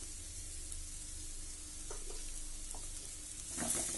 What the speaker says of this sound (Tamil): இந்த மா இஞ்சி நல்லா வதங்கட்டும்.